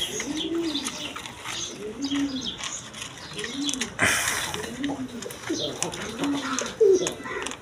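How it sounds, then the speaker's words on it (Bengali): Large pigeons for sale, with hens among them, coo in a steady repeating series of soft, rolling calls close by, alongside light chirps and a brief burst of wing flapping. "খুব কোয়ালিটি সম্পন্ন কবুতর।"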